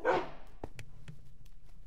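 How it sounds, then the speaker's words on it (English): A dog barks once loudly in a video game, followed by a few fainter, brief yips spaced apart over a low steady background hum. "Is that one of my dogs over there?"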